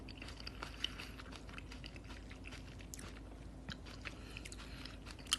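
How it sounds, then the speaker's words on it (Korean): Someone chews snack food close to the microphone, soft crunches and bites repeating irregularly over a quiet background. "씹는 소리가 신나 보인다고?"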